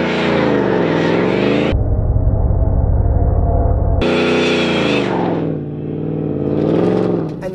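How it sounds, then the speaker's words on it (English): A supercharged V8 Ford F-150 roars loudly and close during a burnout. The engine revs in sustained, rising and falling pulls, with a brief muffled stretch partway through. "that's when you can do your big, fat, nasty burnouts"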